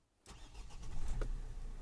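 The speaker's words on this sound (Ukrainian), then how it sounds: "Заводиться і працює просто відмінно." A 2012 Opel Vivaro 2.0 diesel passenger van with about 330,000 km cranks and starts, catching abruptly after a short quiet and settling into a steady close idle rumble.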